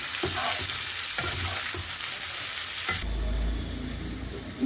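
Chili soya frying in a pan with onions, capsicum and green chilli, stirred with a spoon: loud continuous sizzle with soft scraping strokes that change tone near the end.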